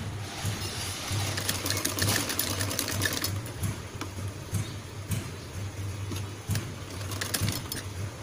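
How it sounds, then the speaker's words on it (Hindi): A sewing machine stitches a layer of a pom pom poncho in a steady, continuous mechanical whir with a low motor hum and rhythmic needle ticking throughout, close and fairly loud, with no talk. "अब हम इसको इस पे स्टिच कर लेते हैं"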